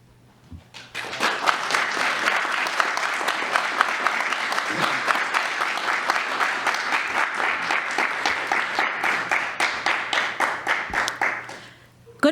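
An audience at the opening of the 2024 Africa Ideas Festival breaks into steady, loud applause, with dense clapping that swells quickly, holds for about ten seconds and then fades out.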